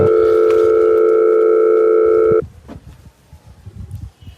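A steady electronic telephone ringback tone sounds loud and unbroken for over two seconds, then cuts off abruptly, leaving quiet room noise and faint rustling.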